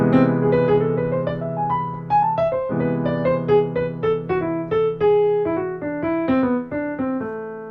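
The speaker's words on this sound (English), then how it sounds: "The Lydian Augmented Scale is characterized by its sharp 4 and sharp 5 and is a very angular sounding scale" Piano playing a Lydian augmented scale in a modern jazz style, a steady run of single notes climbing and then descending over a sustained low chord, alone and clear.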